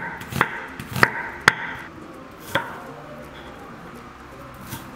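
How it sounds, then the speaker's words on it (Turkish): A knife chops a red onion on a cutting board, giving a few sharp, close taps in an uneven rhythm, with quieter movement and handling sounds between the cuts. "öncelikle bir adet kırmızı soğanımı güzelce doğramak istiyorum"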